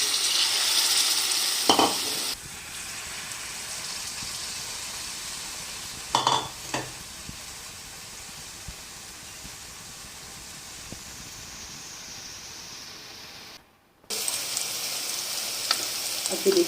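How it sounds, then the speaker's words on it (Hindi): Potato Maggi cutlets fry in a pan as pieces are dipped and slipped in one by one, giving a steady close sizzle that runs throughout, broken by a few brief clatters and one short silent gap. "आपने एक एक करके डिप करना है और एक एक करके जो है वो अपने पैन में डालते जाना है"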